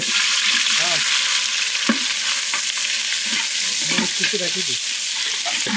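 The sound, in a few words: garlic paste frying in oil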